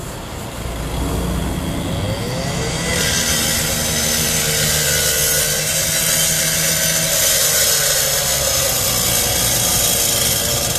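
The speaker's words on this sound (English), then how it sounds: "So they're trying to cut the side of this trailer to get underneath to extinguish some of that." A power saw cuts into the side of a burnt, fire-damaged semi-trailer at a roadside fire scene on US-23, making a loud, continuous grinding roar that holds steady for the whole stretch.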